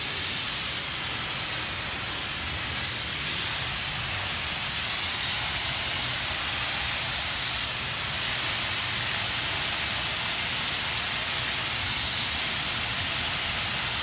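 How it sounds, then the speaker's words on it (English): A hose spray rinses dirt off the wheel and tire of a Duramax pickup truck after off-roading, making a loud continuous hiss of water that does not let up. "now we're gonna rinse this tire off and wheel"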